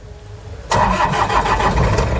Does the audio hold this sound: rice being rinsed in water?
no